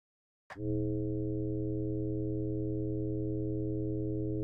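A frequency modulation synth tone generated in Pure Data, entering abruptly with a short attack and then holding steady and loud as a rich buzzy tone full of sidebands, with no talking.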